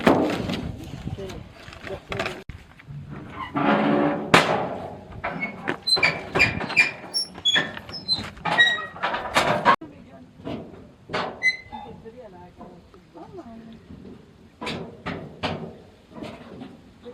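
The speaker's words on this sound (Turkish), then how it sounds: "Kapat kapıyı." A door swings and shuts with creaks and knocks among scattered clatter inside a shop, with voices talking over it.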